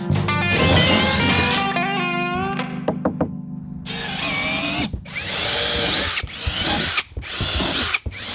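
A power drill drives 1 5/8-inch exterior screws into a Sun Dolphin American boat during a rebuild, with a rising whine that winds up, stops and restarts in several loud close bursts, with knocks in between.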